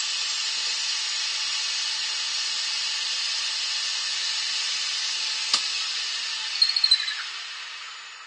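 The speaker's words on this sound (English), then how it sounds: "and there's the hole drilled." Steady high whine and hiss of a lathe drilling an 8mm hole into a wooden wand handle, continuous for several seconds, followed by a few brief knocks and clicks as the cut finishes, no voices.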